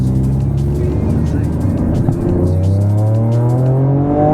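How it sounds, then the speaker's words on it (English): A tuned Toyota GR Yaris with an unlocked ECU and deleted particulate filter drives along a road, its engine droning loudly and steadily from inside the cabin, the pitch climbing as it accelerates. "So let's go and take it for a drive and see how it goes."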